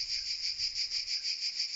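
Cicada singing as an effect in a French audiobook of the fable of the cicada and the ant: a bright, shrill buzzing that pulses in a quick, even rhythm, heard alone and fairly close.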